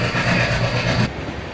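A diesel train rolls steadily in the Indian Railways Train Simulator game, a continuous rumbling run with a low rhythmic rail beat that fades and thins out toward the end.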